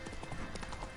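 Roach, a horse in The Witcher 3: Wild Hunt, trots with quick, steady clip-clop hoofbeats, close and clear over a busy game backdrop.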